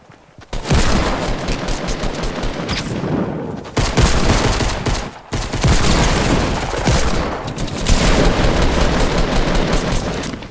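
Dense, loud gunfire from a Fortnite match rattles almost without pause in rapid bursts, broken by a few brief gaps, close and harsh with no talking over it.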